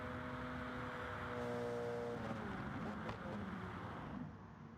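Race cars lapping Spa in GT Sport, a steady layered engine drone with tonal whine rising and shifting as cars run in a slipstream, with a race commentator talking over it.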